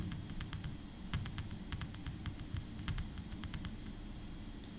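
Fingers type on a computer keyboard while entering text in an Excel formula bar, producing quick clusters of crisp, close key clicks separated by short pauses, with no one talking.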